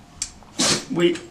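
A person gives a quick, close sneeze with a sharp burst of breath, part of a short run of sneeze-like bursts in a casual indoor conversation.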